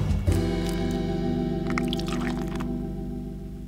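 Water fills a bottle at a brewery's water station, giving a steady humming, gurgling flow with a resonant pitch that holds evenly for a few seconds at close range, with no talking.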